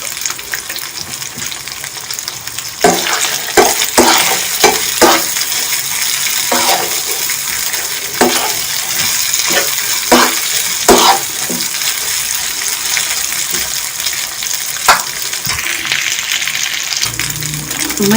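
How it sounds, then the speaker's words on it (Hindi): Boiled, shredded chicken fries in a pan with a steady sizzle, broken by repeated sharp scraping and stirring clatters from a utensil against the pan, close and loud with no talk. "अब रेशा करने के बाद मैं इसको इस तरह से फ्राई कर रही हूँ।"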